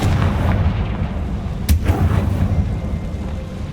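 In the Hogwarts Legacy video game, a Confringo blasting spell explodes with a sudden loud boom over a dense, rumbling background, followed by a crackling decay.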